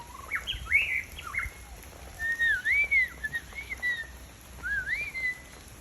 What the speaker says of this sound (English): Hey, pretty bird.